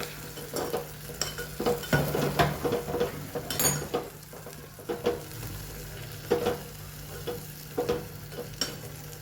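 Turmeric and coriander-cumin powder fry in a pan with Kashmiri chilli, a quiet sizzle under repeated scraping stirs of a spoon against the pan, with no talking.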